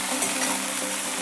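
Sliced onions with ginger-garlic paste frying in a pan for a Bengali egg curry, a brief continuous sizzle with soft stirring scrapes, close and steady.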